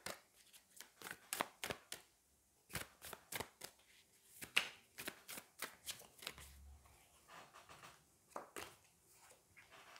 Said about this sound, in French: Allez, on va prendre une troisième carte.